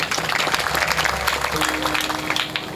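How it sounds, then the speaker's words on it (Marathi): Audience clapping at a Marathi devotional kirtan gathering, a dense, steady burst of applause filling the hall for a few seconds, with a low hum underneath. "टाळ्या झाल्या पाहिजे ताईंसाठी"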